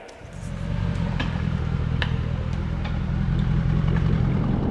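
A car engine and exhaust drone steadily from the rear seat, a loud, constant low rumble that swells slightly as the car pulls away, with faint clatter and no talk.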